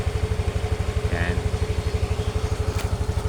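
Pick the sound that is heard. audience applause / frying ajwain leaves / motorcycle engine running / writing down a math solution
motorcycle engine running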